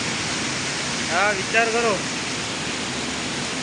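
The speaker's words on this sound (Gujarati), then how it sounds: "ગણપતિ દાદાને મંડપ ઉપર કેવું જોરદાર પાણી પડી ગયું ને દોસ્તો વરસાદ બહુ ખતરનાક છે" Heavy rain pours down onto a Ganpati festival pandal roof, a dense, steady roar of water that fills the whole stretch, with a brief spoken phrase rising over it midway.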